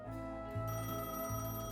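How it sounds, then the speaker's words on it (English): An office telephone rings with a steady electronic tone in two pulsing bursts, moderately loud and heard alone. "you're again awoken to the phone of the office's ringing."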